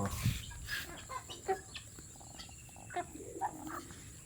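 Broiler chickens make soft, scattered clucks and short calls nearby, several quick low vocalizations spread across a few seconds over quiet background hiss.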